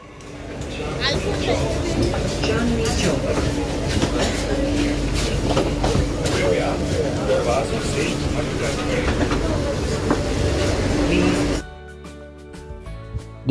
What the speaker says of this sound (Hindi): देखो मेट्रो ट्रेन आ गई है, यहाँ पर स्टॉपेज लेगा